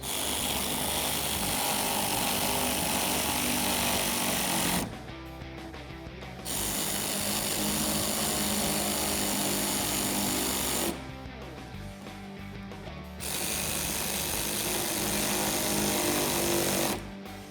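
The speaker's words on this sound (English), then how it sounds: "And then once those are threaded in, we can tighten those up with an 8mm socket." A power tool tightening fender flare bolts with an 8mm socket on a 2016-2021 Toyota Tacoma, a loud steady buzzing whir that runs for several seconds, stops, and starts again in three long bursts.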